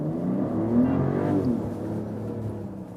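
A 2024 Mercedes GLE 450 SUV engine accelerating from inside the cabin, a steady low drone that rises in pitch, with road and wind noise underneath and no talking.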